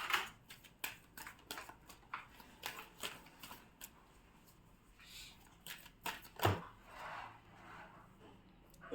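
Tarot cards are shuffled and drawn close up, with quick soft riffles and flicks in irregular bursts, faint and alone.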